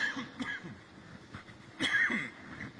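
A few short, harsh coughs from a person with a barking cough, quiet and sparse, with one louder burst near the end.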